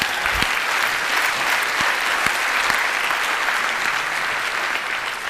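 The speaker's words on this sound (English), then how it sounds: "Give Joe a round of applause." A theater audience at a TED talk applauds steadily, a dense, even wash of many hands clapping at a constant level for several seconds, with a few sharper claps standing out.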